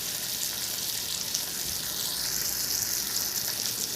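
Fish fries in a pan with a loud, constant sizzle and a hiss of spattering oil. Low bumps are heard briefly, and nobody speaks.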